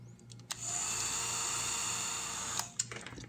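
A craft heat tool melts clear embossing powder, a steady high-pitched electric whir that starts abruptly, runs for about two seconds at close range and then shuts off, with a few small clicks around it and no talking.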